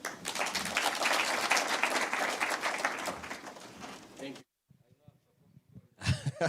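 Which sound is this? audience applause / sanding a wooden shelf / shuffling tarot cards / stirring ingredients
audience applause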